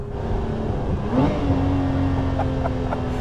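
Lotus Emira V6 with a six-speed gearbox revving, a steady mid-pitched engine drone with a thin whine rising over it, close and continuous, with a brief laugh-like voice midway.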